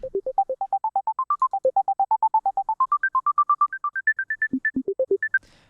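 A bright electronic synth chiptune lead made in Sytrus plays a fast run of short, evenly spaced notes that wander up and down in pitch, each note gliding slightly into the next with portamento.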